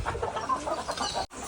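A chicken clucks in quick, repeated bursts, close by and fairly loud, before cutting off abruptly near the end.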